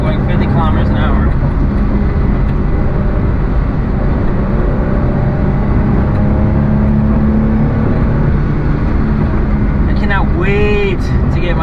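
Honda Vamos kei van driving in 4th gear at about 50 km/h through corners, a steady loud engine and road drone throughout, with a person talking over it.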